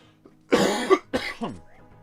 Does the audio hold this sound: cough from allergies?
yes